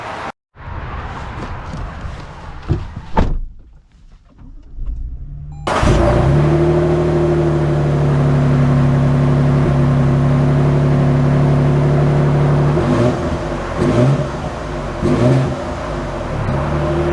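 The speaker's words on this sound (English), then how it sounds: "let us set off here in the Tundra SR5" A 2024 Toyota Tundra SR5 pickup truck starts off after some handling noises, its engine settling into a steady, close-up drone with a few brief bumps and knocks as it drives.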